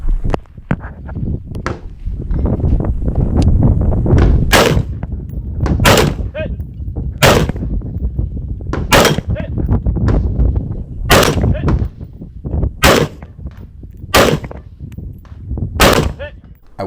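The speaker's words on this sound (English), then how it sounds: "I wasn't comfortable doing double taps on the move with this rifle, so I did triple taps and mostly stopped." Rifle shots ring out at a tactical rifle match, fired in quick triple taps with short pauses between groups, sharp and loud over steady outdoor background noise.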